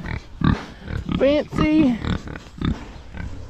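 A guinea pig in a hay-filled farm barn gives a few short, rising squeaks in the middle, between bursts of nearby human talk.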